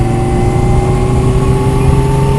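A 1999 Suzuki GSX-R 750 SRAD sportbike with a D&D exhaust, running loud and close with a deep, steady engine tone and no pauses.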